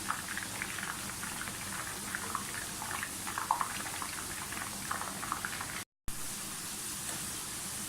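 Potato chips frying in hot oil over a medium flame, a dense continuous bubbling sizzle close to the mic with small popping crackles throughout and a brief gap of silence near the end.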